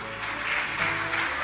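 Sustained applause at a Spanish-language church service, a dense steady wash of many hands clapping at moderate volume throughout, with no distinct voices above it.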